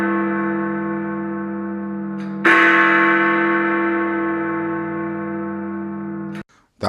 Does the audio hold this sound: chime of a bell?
yes